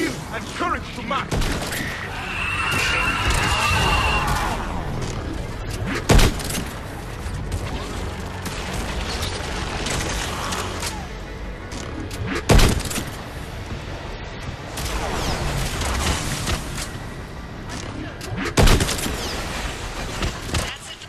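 Missile salvo and gunfire from the Mass Effect 3 video game: dense, continuous rumbling fire with sharp booming impacts at regular intervals, loud and close, mixed with game noise and intermittent speech.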